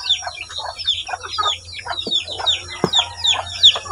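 Month-old Brahma chicks and a hen in a small backyard breeding pen: rapid, repeated high peeping chirps mixed with lower clucks, close by, with a couple of sharp knocks.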